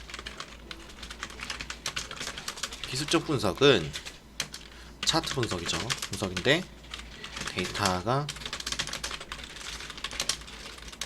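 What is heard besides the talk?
typing on a computer keyboard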